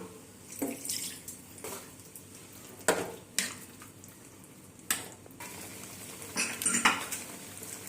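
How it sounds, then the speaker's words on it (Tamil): A spoon scrapes and clinks against a cooking pot as raw papaya gravy with lentils is stirred. Short, irregular metallic knocks come in bursts with quiet gaps, close and fairly soft. "சேர்த்து மறுபடியும் கிளறி விட்டுக்கலாம்"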